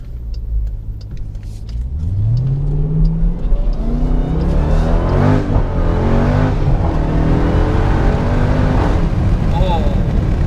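Jeep Grand Cherokee Trackhawk SUV engine accelerating hard, a loud rising roar with climbing pitch that holds strong throughout, heard from inside the vehicle.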